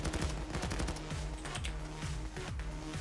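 Rapid pistol shots crack in quick succession in the heist game Payday 2, a dense, steady burst of gunfire heard at modest volume with no talking.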